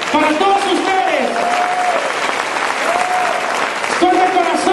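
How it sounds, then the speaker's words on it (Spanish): Loud, dense audience applause at a breakdancing showcase in Mexico, continuous clapping with cheering voices and a shouted tone riding over the crowd. "les voy a pedir un aplauso fuerte, fuerte a todos ustedes, para todos ustedes"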